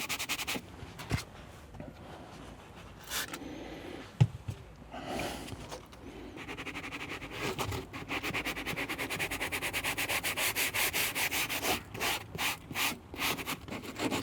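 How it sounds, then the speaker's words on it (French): A cloth rubs gently over scratched, damaged leather in soft, quick strokes, close and fairly quiet, with rhythmic bursts of scrubbing that grow more regular toward the end. "on va tout doucement, on frotte pas fort, on n'appuie pas"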